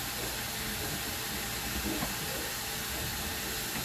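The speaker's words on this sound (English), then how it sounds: "I'm intentionally letting the meat sit there and sizzle, not touching it" Ground meat for lasagna sizzles untouched in a hot pan at home, a steady broadband hiss that holds constant at low-to-moderate volume with no speech.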